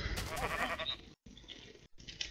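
A Minecraft sheep gives a short, wavering bleat, heard close and fairly clear, followed by a couple of brief clipped repeats with small gaps of near silence between them.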